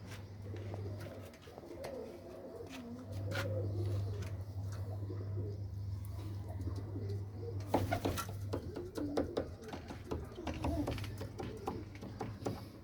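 Pigeons coo in a loft where cocks and hens are being separated, soft repeated throaty coos close by over a steady low hum, with occasional rustling and handling noises.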